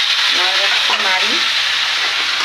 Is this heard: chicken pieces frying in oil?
yes